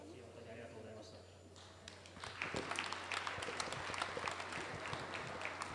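At an R/C drift world cup awards ceremony, an audience breaks into steady applause after a quiet stretch of talk, and the clapping continues evenly to the end.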